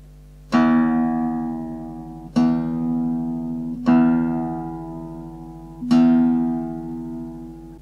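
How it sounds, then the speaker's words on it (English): Four separate plucks of a low guitar string, each left to ring and fade for a couple of seconds before the next. "We'll now use the tuner to get it just spot on."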